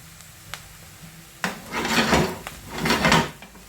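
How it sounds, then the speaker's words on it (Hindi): Vegetables for egg fried rice frying in a hot pan, a soft sizzle that swells in two broad waves between faint clinks and scrapes, with no talk. "तकरीबन 1 मिनट के लिए मैं इसको फ्राई करता हूँ"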